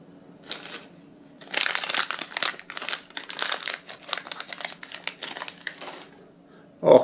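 A small plastic Zomlings toy bag is crinkled and torn open by hand, with loud, dense rustling bursts close by and brief pauses between handling.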